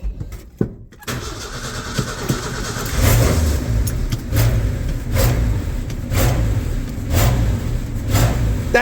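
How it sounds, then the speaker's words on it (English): A 1984 Ford F-250 engine fitted with a Comp Cam 268H cranks and starts after a brief quiet moment, then settles into a loud, lumpy run as the throttle is pumped in several rhythmic surges. "That's me just throttle pumping it because I don't want to idle."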